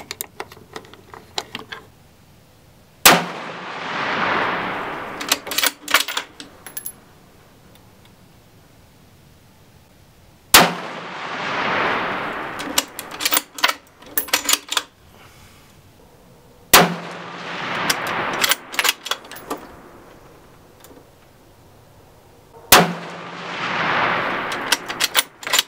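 A tactical rifle in an AB Arms Mod X Gen 3 stock fires Federal Premium ammunition at a 100-yard target. Four loud, sharp gunshots come several seconds apart, each with an echoing tail, mixed with handling clatter between shots.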